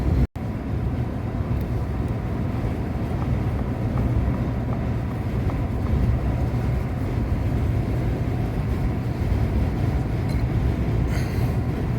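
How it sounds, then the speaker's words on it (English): A car driving down a road in minus 40 wind chill on a winter road trip, heard from inside as a loud, steady low rumble of road and wind noise with no letup and no voices. "What it's like driving down the road in minus 40 wind chilled."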